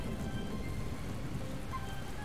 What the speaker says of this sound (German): Flampion steht jetzt hier auch im Regen